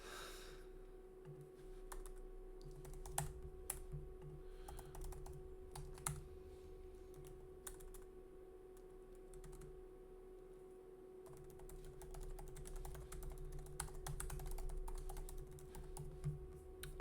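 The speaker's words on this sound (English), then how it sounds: "Okay, so I finished typing this." Quiet, steady typing on a computer keyboard, rapid irregular key clicks in bursts with brief pauses over a low constant hum, close and fairly soft, no voices.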